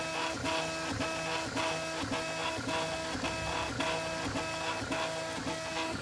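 A 3D printer runs steadily while printing a King of Tokyo game piece, its stepper motors whirring and chirping in a continuous rhythmic pattern of repeating tones and short pulses, close and fairly loud, with no talking.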